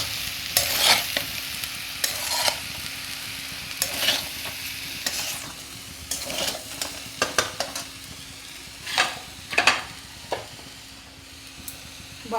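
A spoon stirs fried vegetables into pulao with paneer in a sizzling pan, giving irregular scraping and clattering strokes over a soft background frying hiss, with no talk.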